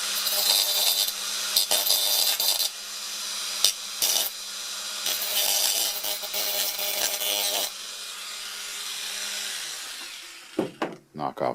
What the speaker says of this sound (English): Just quickly either touch those up with a file